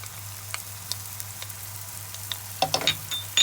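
Onion and garlic sauté in a pan while making red lentil kofta, giving a soft, steady sizzle with a few light clicks, then a cluster of utensil scrapes and taps near the end.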